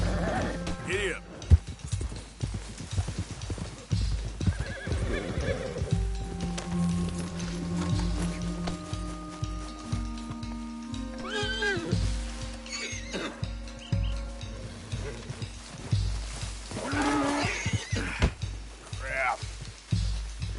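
A horse in Red Dead Redemption whinnies and snorts several times while hooves clop in the background, mixed with game ambience and brief speech.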